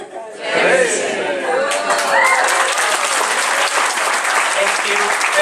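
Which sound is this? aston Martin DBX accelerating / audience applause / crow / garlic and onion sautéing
audience applause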